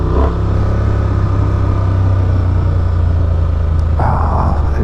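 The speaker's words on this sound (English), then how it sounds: "There's just this little rumble to the motor that just lets you know it's alive and very happy." A Honda XL750R Transalp motorcycle engine rumbles steadily and loudly up close, a constant low drone with a brief rise in pitch near the end, no voices over it.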